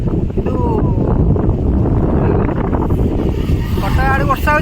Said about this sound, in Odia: ପବନ ବି ଜୋର ଦେଉଛି